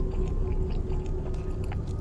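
Close-miked chewing of pizza by a character in the horror game Fears to Fathom, a steady wet mastication sound over a low rumble.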